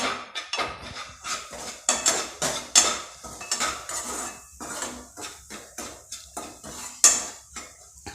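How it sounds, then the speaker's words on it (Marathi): A spoon stirs spice masala into puffed rice for murmura chivda in a metal pan. Rapid, rhythmic scraping and clinking carries on steadily up close, with no talk. "आता मसाला व्यवस्थित मिक्स करून घ्यायचा आहे"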